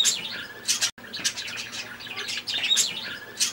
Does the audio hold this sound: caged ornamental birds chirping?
yes